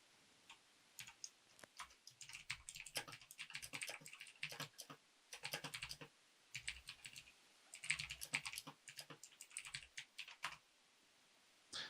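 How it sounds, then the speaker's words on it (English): Rapid typing on a computer keyboard during a game stream, close and fairly soft, coming in bursts of quick clicks separated by short pauses. "Typing all over the place."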